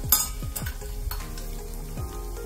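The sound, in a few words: tempering cumin and fenugreek in hot oil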